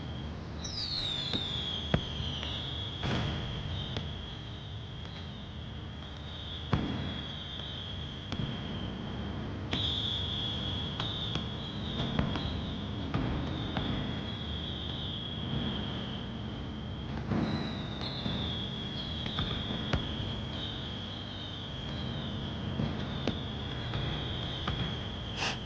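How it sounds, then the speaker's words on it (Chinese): Fireworks crack and pop in scattered bursts over a steady rumble across a long stretch, with a high thin whistling tone gliding and sustaining above, and no talk. "不用看天空，我也知道现在的烟花是什么颜色的"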